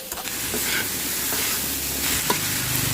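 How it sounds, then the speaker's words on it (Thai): Yakisoba noodles stir-fried over high heat in a pan, giving a steady close sizzle with scraping, tossing stirs throughout and no talking. "ขั้นตอนการผัดคลุกเคล้าค่ะ ให้ส่วนผสมทั้งหมดมันเข้ากันนะคะ"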